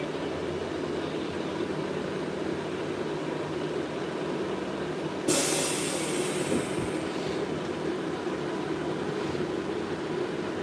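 Tram No. 3 rolling on rails through St Petersburg from Repin Square, a steady low rumble and rattle of wheels on track with a brief louder hiss or screech burst midway, no talking.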